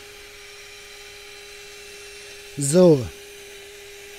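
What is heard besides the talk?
power screwdriver driving a screw into a motorhome awning support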